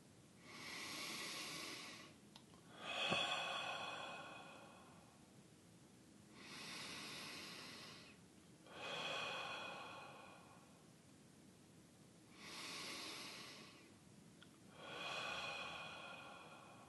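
Slow, deep breaths during a guided meditation session, about five long inhale-exhale cycles spaced several seconds apart, soft and close with quiet pauses between, no talking.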